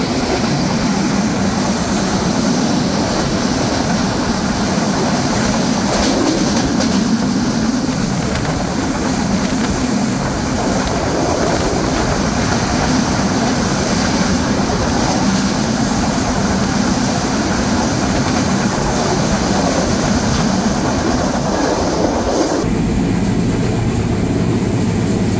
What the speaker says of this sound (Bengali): ট্রেনটি এই মুহূর্তে প্রবেশ করছে ঈশ্বরদী বাইপাস রেলওয়ে স্টেশনে।